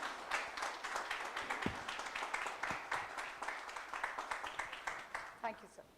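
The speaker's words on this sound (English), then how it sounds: "May we have a big round of applause for Genla." Scattered audience clapping greets a speaker invited on stage, fairly faint individual claps in an uneven rhythm, mixed with talk and speech-like sounds throughout.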